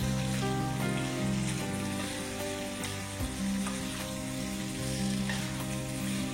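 Bangladeshi elephant apple pickle masala frying in a pan, a loud, constant, rain-like sizzle with intermittent stirring, heard up close.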